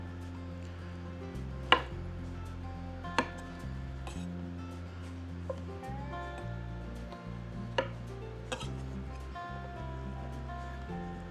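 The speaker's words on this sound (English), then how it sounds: "Some of these I'm going to chop in two." A knife chops mushrooms on a board for a leftover turkey stir fry, giving a few sharp, separate knocks spread well apart. A steady low background hum runs underneath and no one speaks.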